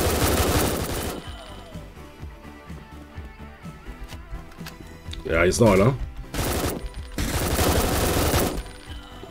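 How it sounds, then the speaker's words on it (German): Bursts of rapid gunfire from the video game Door Kickers: Action Squad, loud at the start and in two later volleys, with someone speaking briefly in between. "Die schießen."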